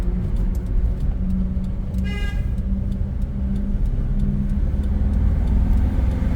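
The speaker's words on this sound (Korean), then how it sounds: "뒤에서 빵빵거려." A car horn sounds briefly from behind over the steady rumble of a car with an exhaust-emission fault and power loss, driving under 40 km/h on the road.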